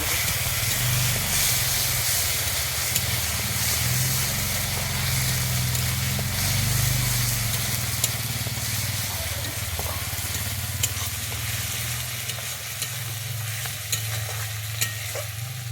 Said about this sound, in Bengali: আমি আদা জিরে কাঁচা লঙ্কাটা বেটে দিয়ে নিয়েছিলাম আগে আমি সেইটা দিয়ে এবার একটু ভেজে